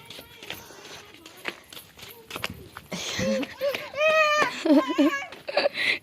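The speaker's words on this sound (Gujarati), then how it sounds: "આખલાઓ બહુ હોય ને આગળ આગળ દોડવા માંડ્યા છે" Bulls run along the ground, their hooves making a loose run of sharp, uneven thuds that later sound under excited voices, including a child's.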